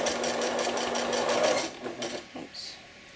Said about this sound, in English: And then we're going to back stitch just a little.